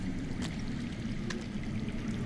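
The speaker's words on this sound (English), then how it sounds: "I hear water. From underground." Steady underground running water in the Game of Thrones video game, a soft continuous trickling stream at low level, heard alone without talk.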